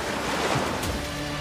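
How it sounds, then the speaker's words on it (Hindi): Sea waves breaking near the Jagannath temple in Puri, a steady broad wash of surf with some wind, continuous and fairly close, with no voices. "लेकिन आप जैसे ही मंदिर से एक कदम बाहर निकालेंगे वैसे ही समुद्र की लहरों की आवाज"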